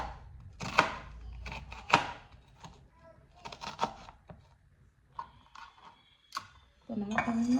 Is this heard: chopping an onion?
yes